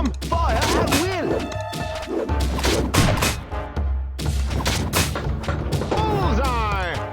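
Musketeer towers firing in Kingdom Rush during a Rotten Forest battle, repeated sharp gunshots and booms mixed with game voice lines, music and battle clutter, loud and busy throughout.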